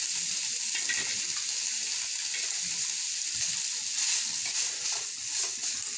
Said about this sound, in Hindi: सबसे पहले प्याज डालेंगे